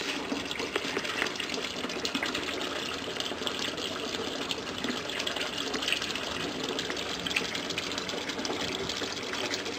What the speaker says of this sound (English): Let's see the water cutting off.